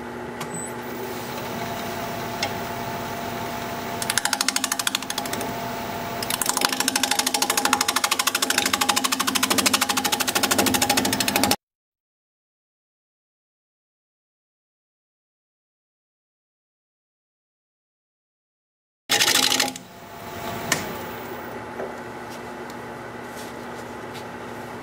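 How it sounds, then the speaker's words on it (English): Wood lathe spinning at 780 RPM while a 5/8 inch bowl gouge cuts a bowl blank: a steady motor drone with a tonal hum that grows rougher and louder during the cut, drops out entirely, then returns. "We're going to be turning at 780 RPM, 5/8 inch bowl gouge"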